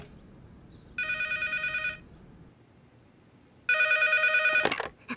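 Cartoon telephone bell ringing in two bursts of rapid trilling rings separated by a pause, clear and fairly loud, cut off at the end as the receiver is picked up.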